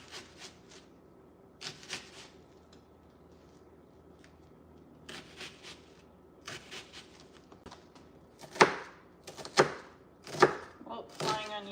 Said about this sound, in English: I'm already gonna like pre-chop the onion just a little bit.